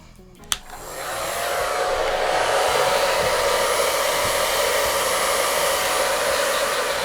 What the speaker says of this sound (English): the hairdryer gave us a more splattered look, and even with the diffuser attachment on